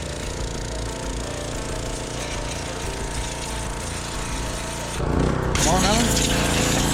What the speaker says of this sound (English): Power washing.